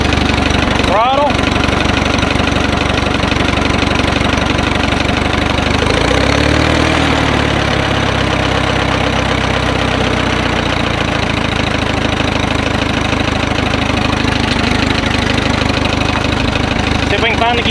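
A 1938 J.I. Case CC tractor engine running steadily and loudly nearby, a continuous rough idle lasting the whole stretch with a brief knock or clunk near the start.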